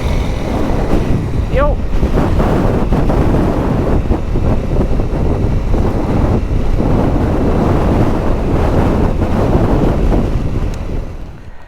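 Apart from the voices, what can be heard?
wind blowing into microphone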